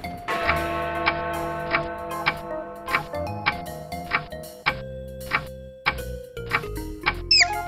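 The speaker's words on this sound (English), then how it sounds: "It's also broken and only ever chimes at 1 o'clock." A broken hickory clock in the Lucy Dreaming video game ticks steadily and chimes in clear, ringing tones, with soft melodic notes continuing alone throughout.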